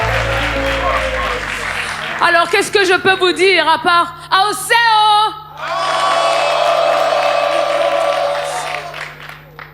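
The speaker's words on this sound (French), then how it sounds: "On peut les applaudir déjà très très fort" A crowd at an outdoor music show cheers and applauds, with whoops rising after a host speaks over a microphone; the clapping swells into a loud, sustained wash in the second half.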